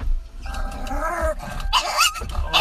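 A Yorkshire Terrier growls low and then breaks into several sharp, high barks close by, with music playing behind it.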